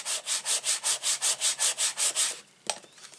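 Paper on a note card rubbed down firmly in about fourteen steady back-and-forth strokes close by, ending with a single sharp tap, no talking.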